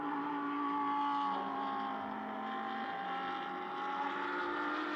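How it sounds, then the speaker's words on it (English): A Lamborghini GT race car engine at Mugello, a steady loud harmonic drone that swells slightly as it draws nearer, without speech over it. "You can hear the Lamborghini before you can see it, and that's very apparent right now"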